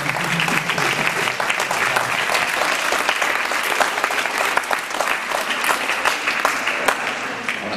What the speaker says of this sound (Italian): Quindi facciamogli un applauso di saluto.